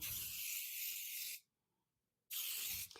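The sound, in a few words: cooking spray on a baking sheet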